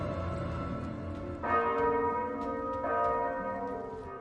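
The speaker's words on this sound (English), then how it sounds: "the surrender bells begin to ring" Church bells ring out with two clear, resonant strikes a little over a second apart, each leaving a long humming decay over a quiet background.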